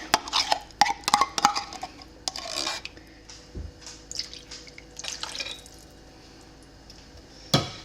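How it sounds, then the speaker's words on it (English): Chicken casserole ingredients get stirred in a dish with a spoon, giving wet squishy scrapes and clinks against the dish in uneven bursts, close and fairly quiet. "I'm gonna mix this up."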